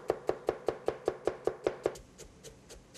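A knife finely chopping onion on a cutting board, about ten quick, evenly spaced thuds close by, then several softer, slower cuts trailing off.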